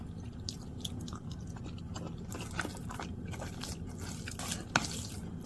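Cucumber being bitten and chewed up close during a meal with curry, soft wet crunches and scrapes scattered irregularly over a low murmur, quiet overall with one sharper crunch near the end.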